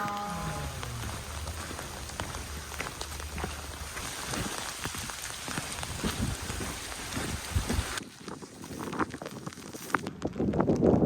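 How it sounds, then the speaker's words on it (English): Steady rain patters on a surface nearby in the countryside near Cirencester, a dense hiss of drops with occasional gusts of wind buffeting the microphone. "hopefully it'll stop raining"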